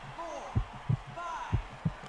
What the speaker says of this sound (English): I like the heartbeat sound effects here